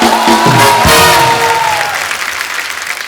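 A studio audience at a comedy show claps loudly to welcome a guest singer, a dense close burst of applause with some cheering that gradually thins out.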